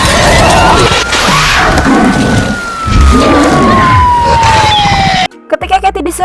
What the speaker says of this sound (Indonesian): segera mobil ambulans pun datang dan monster tersebut langsung pergi